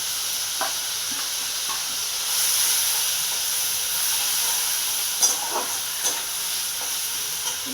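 Spice mix of coriander powder, sugar and turmeric fries in a pan with a continuous hissing sizzle that swells midway, plus a few scattered stirring clicks, and no talk.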